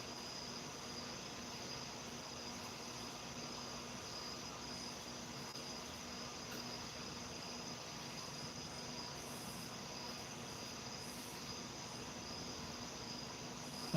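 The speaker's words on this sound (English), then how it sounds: "That's a train going up." A distant train rumbles steadily in an evening outdoor setting, a faint continuous drone with a high whine, layered with a constant chorus of crickets; no voices.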